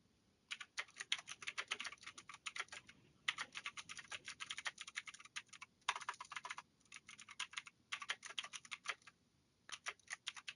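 Fast typing on a computer keyboard comes in dense bursts of rapid clicks with short pauses between runs, close and clear, with no talking.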